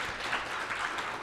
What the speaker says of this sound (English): round of applause for Roger back there.